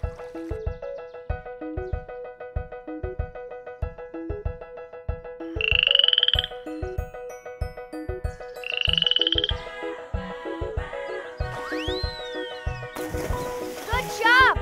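A cartoon frog croaks in a steady, rhythmic series of low pulses while an upbeat children's music track plays alongside. Bright sung or whistled tones and a rising sweep join in near the end.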